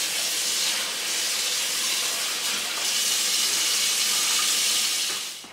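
Water pouring steadily from a tap into a cool water bath for homemade mozzarella, a continuous bright hiss at constant loudness with no talking.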